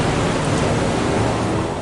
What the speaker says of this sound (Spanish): empiezas a oír el sonido martilleante de la lluvia contra el fuselaje